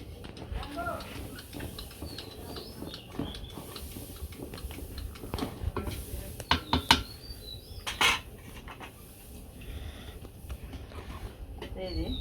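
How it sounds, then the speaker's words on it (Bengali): A dal stirrer scrapes and clinks against a pot of cooked lentil dal on a village stove, with soft knocks and a few louder metallic taps amid outdoor ambience and birdsong; a voice talks throughout. "এই যে ডালটা এখন আমি একটু এই ডালের কাটা দিয়ে একটু নাড়া দেবো"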